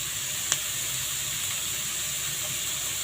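Onions sizzle steadily in a hot pan while prawn thokku is cooked, a constant close frying hiss with a single faint tap, and no talking over it.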